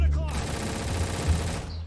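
Rapid gunfire in the Roblox shooter RECOIL, a dense sustained burst of automatic shots running close and loud through the whole stretch, with a voice faintly underneath.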